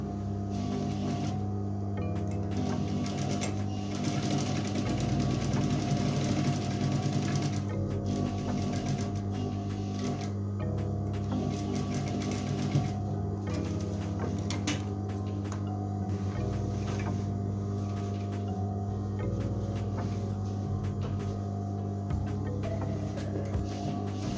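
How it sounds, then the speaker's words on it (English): Sewing machine stitching the side pockets onto a pair of pants, running in a steady, continuous mechanical whir with rapid needle ticking, close and moderately quiet throughout with no talk. "We start sewing from here up to here and on the other pocket as well."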